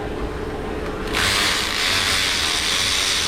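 Close mechanical clicking of a ratchet working a bolt loose on a Subaru Forester, a short burst that gets louder and busier partway through.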